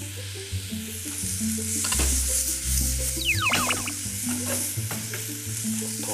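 Chili peppers are stir-fried in a wok, a close, lively sizzle with scraping and clanking of the spatula against the metal in irregular bursts, no voices over it.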